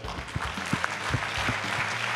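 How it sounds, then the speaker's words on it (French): Audience at an awards ceremony clapping, a dense spread of hand claps with a few sharper individual claps standing out, moderately loud and sustained. "on peut les applaudir"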